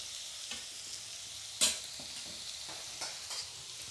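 Onions softening in a hot pan for garlic chicken chilli give a steady low sizzle, with a few sharp utensil clinks and scrapes against the pan standing out above the frying hiss.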